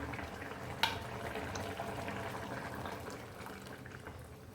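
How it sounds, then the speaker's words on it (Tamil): Lentils poured into a pot of boiling radish sambar, a South Indian vegetarian dish, giving a soft steady simmer and pour with one brief sharp clink near the start. "நல்லா கொதிச்சிருச்சு இப்போ பருப்பு ஊற்றிடலாம்"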